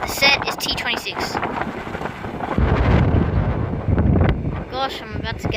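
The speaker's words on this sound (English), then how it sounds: "Gosh, I'm about to get knocked over from this wind." Strong wind blowing across the platform at Wollongong train station, loud roaring gusts battering the microphone, swelling midway, while a voice talks over parts of it.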